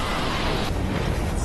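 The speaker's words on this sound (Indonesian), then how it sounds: "mempersiapkan alat lain untuk membuat ledakan agar menghasilkan asap yang tebal" Anime explosion in Soul Land 2, a loud dense roaring blast that thickens into rumbling smoke, filling the whole moment with heavy low-end noise.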